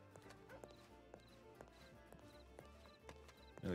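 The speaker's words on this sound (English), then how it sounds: "that honestly sounds like a horse is stuck somewhere it shouldn't be" Rhythmic hoof clip-clops of a horse in the video game Red Dead Redemption 2 roleplay, over a busy, music-like game soundscape, with a louder burst at the very end.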